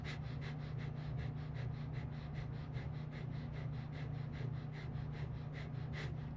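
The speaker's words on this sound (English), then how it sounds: "Rapid inhale, rapid exhale through the nose." Breath of fire in Kundalini Yoga: quick, rhythmic nasal inhales and exhales, roughly three per second, steady and even throughout, fairly soft and close, with no talking.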